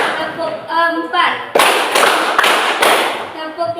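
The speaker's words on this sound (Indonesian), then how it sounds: "Tepuk 1, tepuk 2, tepuk 3, tepuk 4," A class chants a counting rhyme together, then breaks into loud, rhythmic group claps in a few evenly spaced bursts, with voices continuing over the clapping.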